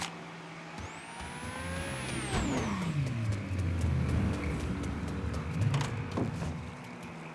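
A car engine in the video game Mafia 3 starts and warms up, a whining rise followed by a loud, steady rumbling idle and revs close by, with no talking.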